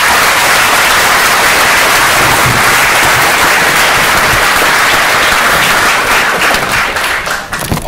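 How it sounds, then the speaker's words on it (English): Loud, close audience applause after a talk event, dense continuous clapping from a sizable crowd that holds steady and tapers slightly at the end. "So I just want to begin by maybe giving them a round of applause."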